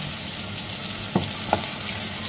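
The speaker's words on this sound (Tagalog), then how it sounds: "Saka natin ang bawang. Saka natin hanggang lumabas ang aroma nila." Garlic sautés in a hot wok for a chicken adobo stir-fry, giving a continuous, even sizzle up close, with two quick spatula clacks partway through and no talking.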